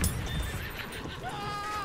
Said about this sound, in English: Spotted an enemy horse rider.